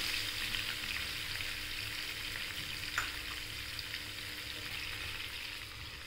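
Curry leaves and green chillies frying in a tempering of oil with asafoetida, mustard and cumin seeds, a steady faint sizzle with one sharp crackle partway through.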